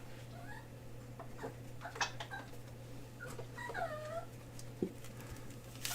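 A puppy's soft, high-pitched whimpers and whines rise and fall in a few short bursts over a steady low hum, fairly faint and close by.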